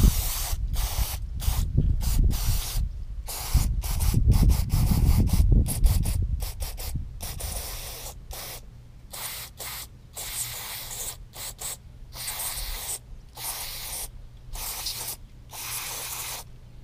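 A cleaner is sprayed onto oily car axles from an E36 build in repeated short, hissing bursts, with an irregular rhythm close up and a low rumble of rubbing under the early sprays.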